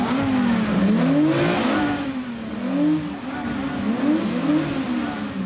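A Ferrari sports car engine revs repeatedly, the pitch climbing and dropping in loud, close bursts with brief pauses between.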